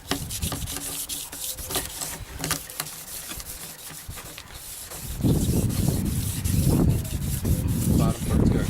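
Steady scratchy rubbing of hand sanding a car headlight lens, strokes in varying directions, soft at first, then louder, rougher back-and-forth strokes in the second half.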